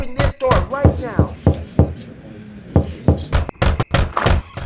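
Loud, sharp knocks pound on a door in irregular bursts of several heavy thuds, with pauses in between, amid a noisy scene in a music video.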